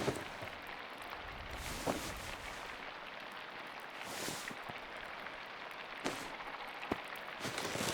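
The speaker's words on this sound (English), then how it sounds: "It's raining heavily outside." Heavy rain pouring outside in the video game Pentiment, a loud continuous hiss with occasional sharper splashes and thuds, steady throughout without any talking.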